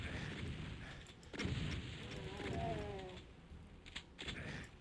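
Gunfire in the 1993 first-person shooter DOOM, a string of loud sharp shots and booming blasts over a dense game soundtrack, with bursts spread through the clip.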